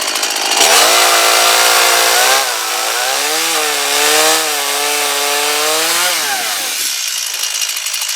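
A STIHL MS 170 petrol chainsaw starts and runs loud and close, its engine note revving up, settling into a steady idle-to-high drone with rising and falling pitch, then cutting off near the end.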